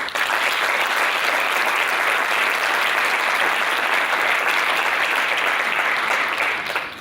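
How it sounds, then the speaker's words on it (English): Graduation audience gives sustained, loud, even applause, a dense roar of many hands clapping without pause before fading at the very end. "So I ask you to please give them a round of applause."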